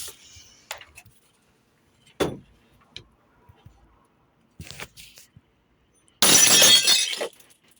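A Magnor drinking glass shattering, a loud bright crash of breaking glass near the end after scattered quiet handling clicks and taps.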